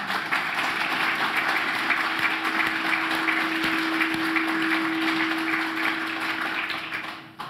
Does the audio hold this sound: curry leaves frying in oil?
no